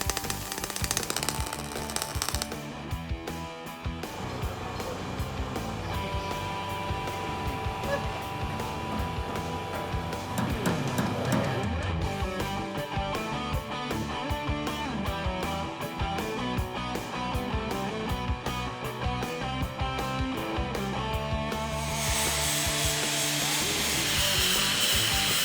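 Lathe turning down a lug nut and a half-inch drill boring it out to make a leaf spring perch adapter for a Hemi Belvedere, a continuous loud grinding machining whine with rattling, no voices heard.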